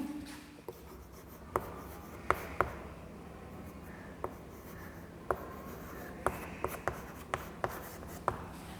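Pen on paper scratches softly and steadily as notes on chemical elements are written, with frequent small ticks and taps from the pen, close and quiet, no voices.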